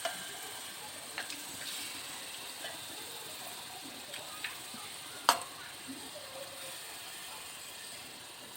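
Mutton curry simmering in a pan after water has been added, giving a faint continuous bubbling sizzle broken by occasional clicks and clinks of utensils against the pan.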